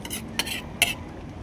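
A utensil scraping and clinking against a pot while kare-kare is stirred, with two or three brief metallic strokes close by over a soft steady background.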